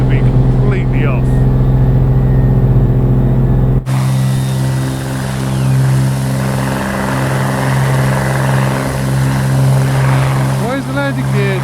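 Steady, loud propeller engine drone of a Black Square Commander 114 single-engine aircraft in Microsoft Flight Simulator, continuous throughout with a brief dip in tone near the start and faint cockpit clicks near the end.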